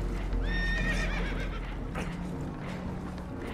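Spooked horses neigh in Red Dead Redemption 2, a loud whinny near the start over a continuous rough background of rushing noise.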